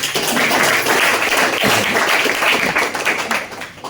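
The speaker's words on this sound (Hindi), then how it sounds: "मैडम के लिए ताली बजाओ जोरदार" An audience at a business seminar applauds loudly for a woman, dense sustained clapping from many hands filling the room from start to finish.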